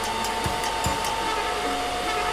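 A hair dryer runs steadily throughout at an even, fairly loud level, a continuous blowing hum with a few brief low knocks in the background.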